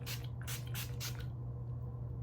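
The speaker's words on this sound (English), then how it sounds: "Just give my face a good spray." Rose petal witch hazel facial mist from a pump bottle is sprayed onto a face, three quick close airy bursts in a row, then quiet with a low steady hum behind.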